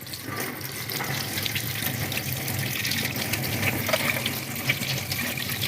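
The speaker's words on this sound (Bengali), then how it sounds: "এরকম একটা ফুটো থালার ভেতরে সজনে ফুলগুলোকে রেখে একটু ভালো করে বেছে নিতে হবে আর ধুয়ে নেব" Drumstick flowers rinsed in a perforated colander under running tap water, a steady close gush of flowing water with light splashing throughout, no talking.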